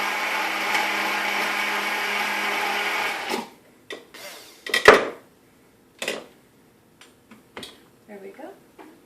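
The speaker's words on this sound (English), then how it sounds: "just let it blend for probably about 30 seconds" A kitchen blender whirs loudly and steadily for about three seconds while mixing a Tuscan kale salad dressing with salt and pepper, then stops abruptly, leaving scattered clatters and brief talk.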